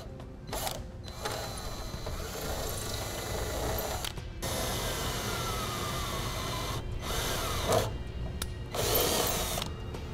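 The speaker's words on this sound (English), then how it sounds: "I'll go ahead and take a pilot bit and we'll put a pilot hole in each of our two locations first." A power drill with a pilot bit bores pilot holes through the trunk pan of a 2013 BMW 5 Series for a Curt trailer hitch, sounding as several steady grinding bursts broken by short pauses, close and fairly loud.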